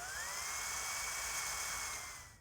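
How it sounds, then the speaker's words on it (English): A power drill bores through weather stripping and molding in a '55 Willys Wagon interior, a steady high whine at close range that winds down at the end. "drill holes through the stripping and the molding"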